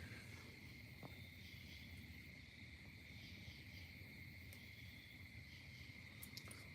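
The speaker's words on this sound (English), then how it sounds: "Yeah, crickets." Crickets chirp in a continuous high trill outdoors at a lakehouse among pine trees at night, faint and steady with no voices.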